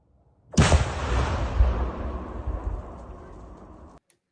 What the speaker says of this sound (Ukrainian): Масштабний вибух минулого тижня стався в районі залізничної станції